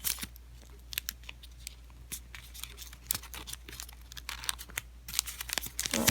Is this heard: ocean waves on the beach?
no